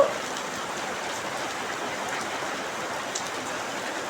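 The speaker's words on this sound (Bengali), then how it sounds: "এই বৃষ্টির পানে তাকাচ্ছি" Rain pours steadily in an even, dense patter with no other sounds.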